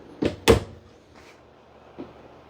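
Full-extension ball-bearing drawers in a 2025 Stryker 2614 toy hauler trailer close with two quick, fairly faint knocks, followed a moment later by a softer thud.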